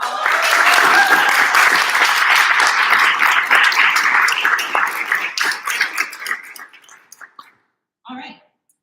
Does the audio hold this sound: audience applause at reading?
yes